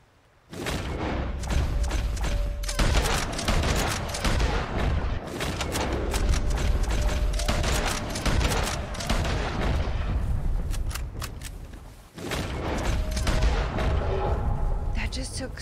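Repeated booming gunshots in Red Dead Redemption 2 during a hunt, loud and close, fired one after another over several seconds with brief pauses, mixed with game sounds and a player talking.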